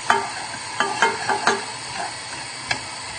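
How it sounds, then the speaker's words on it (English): Garlic and ginger being stirred in a heating saucepan: a soft, steady sizzle with a handful of light scraping clicks from the spoon, close and fairly quiet. "We'll just give that a little stir."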